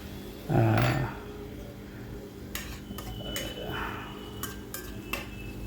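Spoon scraping and clinking against a pan of Bengali egg and potato curry, a few sharp metallic taps spaced across the clip after a brief low hum near the start, close and fairly quiet.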